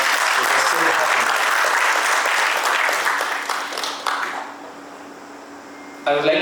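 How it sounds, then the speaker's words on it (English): Audience applause at a TiE Mysuru founder series event, strong sustained clapping that tapers off after a few seconds, leaving quiet room tone before a voice resumes. "let us all give a huge round of applause because Sid happened"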